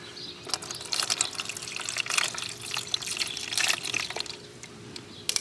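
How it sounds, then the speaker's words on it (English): Water splashes and trickles in uneven spurts onto a Saab car battery post nearby, with small drips and patters throughout. "Pour some water on the post."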